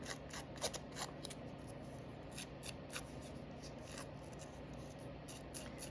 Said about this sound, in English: take a pair of Scrappy scissors and kind of rough up the edges of my cardstock or my paper